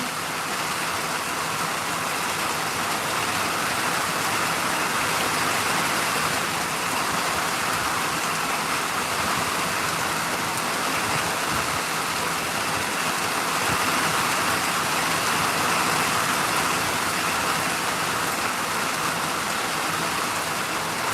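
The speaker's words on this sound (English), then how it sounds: "I'm sitting on the front porch watching it rain." Steady rain falls in front of a front porch, a constant close, even wash of patter on surfaces that runs without pause and with no talking.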